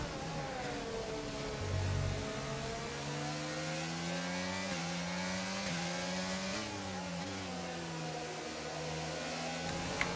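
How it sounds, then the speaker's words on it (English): A hybrid Alpine Renault race car engine in a racing video game holds a steady, whining mid-pitched drone, rising and falling gently as it revs, moderately loud and continuous without speech. "You can really hear the hybrid motor in that Alpine Renault powertrain."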